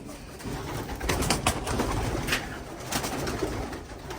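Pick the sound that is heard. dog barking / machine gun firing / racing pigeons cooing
racing pigeons cooing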